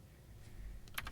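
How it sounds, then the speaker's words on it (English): A few faint keystrokes on a computer keyboard cluster near the end of a short, quiet moment, with no talking. "So I'm just going to type that in."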